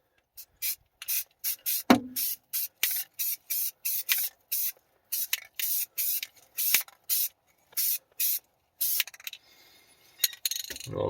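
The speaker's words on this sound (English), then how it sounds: "I'm just going to go ahead and just spritz this down" A hand-pump spray bottle spritzes liquid onto a Honda Fit during light car servicing, a long run of quick, crisp hissing bursts in uneven rhythm with short gaps between them, close and fairly loud, with one dull knock partway through.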